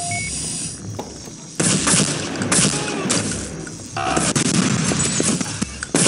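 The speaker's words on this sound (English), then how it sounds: "The fires are detonating explosives all over the compound." Explosives detonate and gunfire rattles across a compound in a video game, with loud repeated blasts and bursts of shots in dense, continuous layers and no speech.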